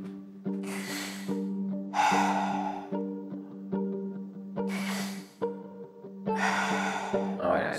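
A voice imitates laboured, asthmatic breathing heard through a door: a series of rasping inhales and snorting exhales in an uneven rhythm, close and fairly loud, with no other sounds.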